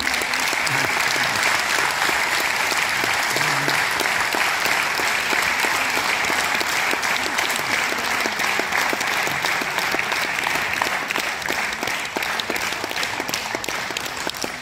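Long, sustained applause from an audience at a centenary celebration for an Armenian church in Haskovo, a dense and even wash of many hands clapping that continues unbroken for nearly fifteen seconds.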